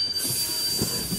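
Animated steam train running along the rails, a steady rumbling hiss with a faint high whistle tone over it, continuous and moderately loud with no voices.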